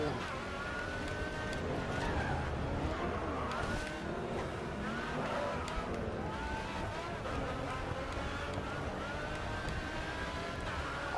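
Pagani Zonda Revolucion race car in GRID 2, a steady engine roar with tire skids running continuously throughout, loud and close, mixed with game sound.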